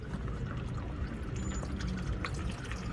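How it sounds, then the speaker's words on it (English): Engine oil draining out of an old SUV, a steady pouring gush of liquid, close and continuous for a few seconds, with no voices. "Let her drain for a sec."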